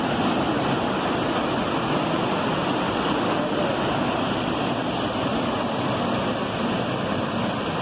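A waterfall in Presidente Figueiredo, Amazonas, pours as a steady, broad roar of rushing water, loud and unbroken throughout, with no voices heard.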